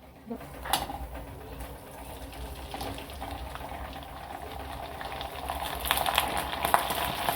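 Sabudana pali papad frying in hot oil, a steady close sizzle and bubbling that grows a little busier toward the end, with no talking.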